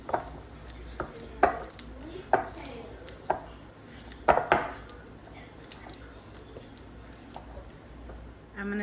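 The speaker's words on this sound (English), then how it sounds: "Now I'm just going to give everything a good mix." Seasoned chicken filling with salt-free onion and herb seasoning is mixed in a bowl, giving a series of sharp clacks and scrapes of the utensil against the dish, close and irregular, about ten knocks, with no talking.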